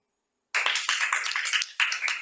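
An audience bursts into applause after a moment of silence, a dense, close run of many hands clapping that briefly dips and then picks up again.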